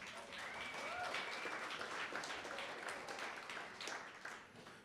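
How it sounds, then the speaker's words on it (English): Audience applause at an awards ceremony for school leaders, a full steady wash of clapping from a room of people, with a few faint whistles or voices rising above it before it tapers toward the end. "Now, yeah, you can clap"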